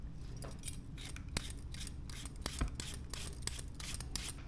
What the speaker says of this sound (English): all I'm gonna do is take a vegetable peeler